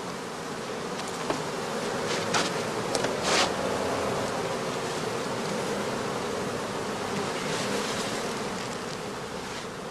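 Honey bees buzz steadily around a straw skep hive, a dense continuous hum of many insects close by, with a few louder individual passes standing out over the drone.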